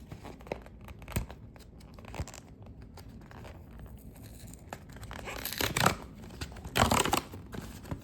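A 2005 Topps Turkey Red baseball card blaster box and its packs are torn open by the rip tab: scattered crinkling and rustling that builds into louder tearing bursts near the end, with no talking.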